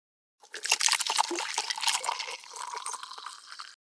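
Water poured into a clear ice mold: a close, steady liquid splash and trickle lasting about three seconds, loudest at the start and easing to a softer fill near the end.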